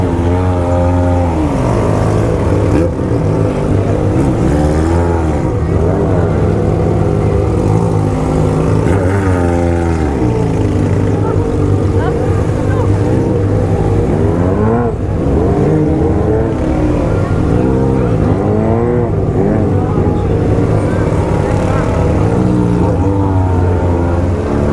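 A large BMW 1200 motorcycle rumbles continuously through city streets on the way to a baile funk party, its engine rising and falling with repeated throttle changes, loud and close throughout.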